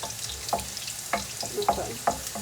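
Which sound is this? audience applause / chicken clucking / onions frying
onions frying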